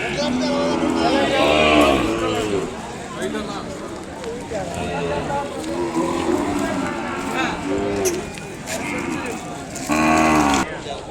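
Several loud cattle moos at a livestock market, an Ongole calf's bawling calls repeating near and clear, with people talking underneath and a final strong moo near the end.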